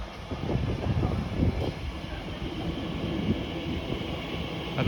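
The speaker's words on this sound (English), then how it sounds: "arriving in now is another 345 en route to Heathrow Terminal 4" Class 345 electric train arriving at Acton Mainline station on the Great Western Main Line, bound for Heathrow Terminal 4, a low rumbling roll of wheels and motors building steadily, moderately close with no talk.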